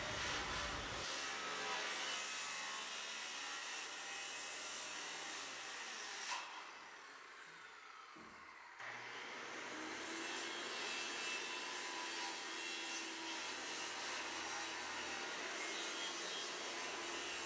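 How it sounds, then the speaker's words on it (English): Handsaw strokes rasp steadily through a wooden stair stringer while riser cuts are made for cellar stairs, a continuous close scraping broken by a short pause midway before the sawing resumes. "I found it most efficient just to cut all of the riser cuts into the stringer."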